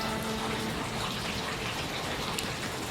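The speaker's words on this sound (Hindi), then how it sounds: "बहुत ही रौद्र रूप में सरस्वती नदी यहाँ पे दिखाई देती है, बहुत ज़्यादा शोर आता है।" Roaring Saraswati river at its source near Mana village in the Himalayas, a steady, dense rush of turbulent water filling the scene at constant loudness with no voices.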